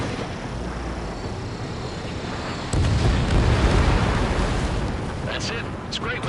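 An enemy bomber is shot down in an aerial combat video game, its explosion bursting in as a sudden loud boom and rumbling roar over constant engine and wind noise.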